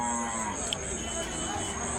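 Uncastrated bulls lowing at a livestock market in Melapalayam, a faint low moo in a noisy outdoor market ambience with a steady high hiss.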